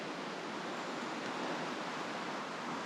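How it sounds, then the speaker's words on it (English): Small creek running through a paperbark forest, a steady broadband rush of flowing water that holds even throughout, soft and continuous with no voices. "A little creek running through."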